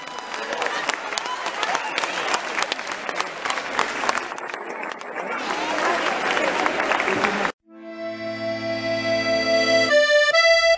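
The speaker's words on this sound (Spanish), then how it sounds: "Vamos a darles otro fuerte aplauso porque lo merecen." Concert audience bursts into loud, sustained applause and cheering for the band, dense clapping filling several seconds before it cuts abruptly to a music jingle.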